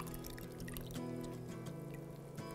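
Water trickles and drips as a wet rawhide drum lace is lifted out of a container of water, a close, continuous splashing dribble with no talk.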